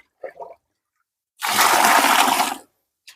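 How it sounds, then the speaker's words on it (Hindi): Water poured from a container into a bucket of fresh cow dung, a single loud broadband gush lasting about a second after a couple of faint short sounds, close to the listener. "फिर जाके इसमें बढ़िया आप पानी डालो"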